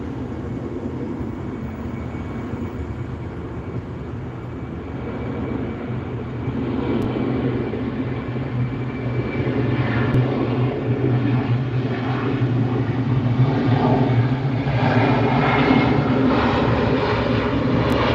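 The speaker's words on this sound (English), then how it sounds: "That was a good takeoff from that 737-800." A 23-year-old Boeing 737-800 airliner, built in 1999, takes off at SNA airport, its engine roar a steady broadband rumble that swells gradually and holds loud without any talk.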